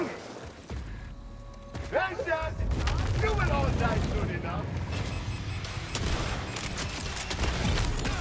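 Rapid gunfire and booming explosions from a Borderlands 4 battle crackle and thud densely for several seconds, with a voice speaking over the opening.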